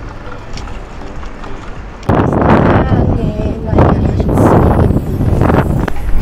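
Strong wind buffets the microphone in loud, broadband gusts that grow heavier partway through, with a voice talking under the roar.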